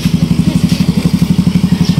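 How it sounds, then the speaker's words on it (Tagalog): A Rusi Flash 150 carburetor motorcycle engine runs close by with a steady, rapid low thumping pulse, loud and even, with no talk over it. "Ito yung isang motor natin guys."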